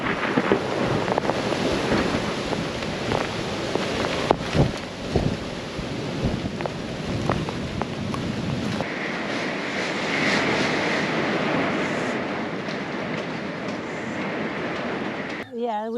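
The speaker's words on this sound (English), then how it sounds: "Getting really cold rain hitting me right now." Storm weather around an RV in the open: cold rain pelting steadily with gusting wind buffeting the microphone and low rumbling underneath, changing to a hissing, more even downpour partway through, with a voice talking over it.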